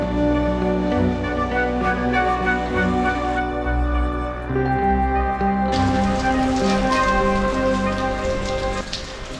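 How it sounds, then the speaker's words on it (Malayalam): Rain falls steadily at Palakkad fort, a continuous close patter of drops on surfaces that stays loud throughout, with a faint tonal hum beneath it. "മഴയാണ്."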